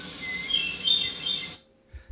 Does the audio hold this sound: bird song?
yes